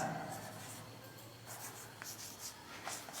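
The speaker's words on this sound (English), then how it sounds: "I have to write" Pen writing on paper during a Bengali school English grammar lesson, a faint continuous scratching with short stroke bursts, close and quiet.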